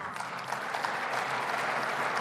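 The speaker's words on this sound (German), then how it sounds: "Matthias Helferich bekommt hier Applaus aus der AfD-Fraktion." Applause from the AfD parliamentary group in the Bundestag during a special session, a sustained, moderately distant patter of many hands that holds steady and swells slightly toward the end, with no voices over it.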